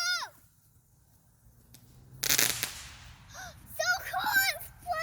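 A small firework goes off with a sharp crackling burst around the middle, preceded by quieter fizzing, while voices and excited chatter continue around it.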